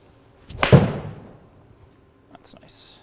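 A golf iron strikes the ball once with a crisp, solid thwack, followed by quiet and a faint whispered remark.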